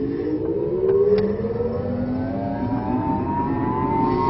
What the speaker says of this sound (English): So off we go. Listen to the engine.